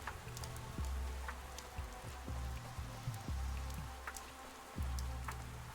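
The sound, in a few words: heavy rain in the video game Pathologic 3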